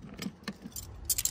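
Car keys for a Lexus RX350 jangle close by in a few short metallic bursts, ending in a brighter flurry of clinks.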